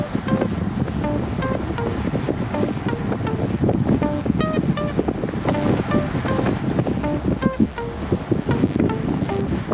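Wind roars across the microphone during a group bike ride, a loud, continuous rushing buffet with faint tonal rattles and chirps running underneath.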